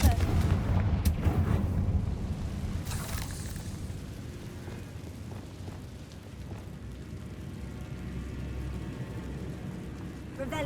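A Confringo fire-blast spell goes off in Hogwarts Legacy, a loud booming burst up front that rumbles and crackles before settling into lower, quieter game ambience.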